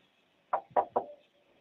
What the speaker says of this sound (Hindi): बार बार खटखटा रही है?